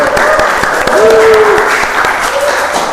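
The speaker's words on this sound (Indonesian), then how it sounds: "Kita beri aplaus dulu untuk Mas Afif." Classroom applause for a student: a dense burst of clapping from a group that continues throughout, with a brief voice tone rising over it.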